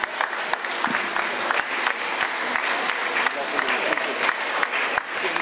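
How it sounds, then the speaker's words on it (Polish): An audience at a Polish family cycling rally event claps for a prize winner called up on stage, a steady, crisp burst of many hands applauding that runs the whole way through at moderate loudness. "Dziękuję za oklaski."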